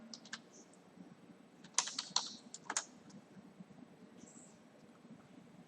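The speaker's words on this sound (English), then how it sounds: "I am typing here some text." Quiet, close computer keyboard typing: scattered key taps, then a brief burst of several quick clicks, fading back to sparse tapping against a soft hum.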